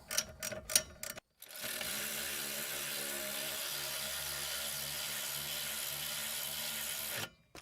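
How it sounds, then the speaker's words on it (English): A few quick ratcheting bursts, then a power tool fastens bolts on a 2001-2005 Dodge Grand Caravan AWD rear axle, running in one long steady whir for several seconds before cutting off abruptly. "These started by hand, and then I'll come back with the power tool."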